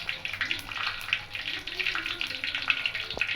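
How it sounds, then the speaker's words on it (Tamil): Whole fennel seeds, cumin and cinnamon stick sizzle and crackle in hot oil in a pan while cooking a vegetarian egg kulambu, a steady close hiss with scattered small pops throughout. "இப்போ வாங்க சோம்பு சீரகம் பட்டையை சேர்த்துருவோம்"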